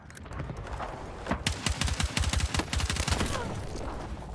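Rapid automatic gunfire in the video game Battlefield 6, a dense string of sharp shots rattling off in quick bursts, fairly loud over quiet background.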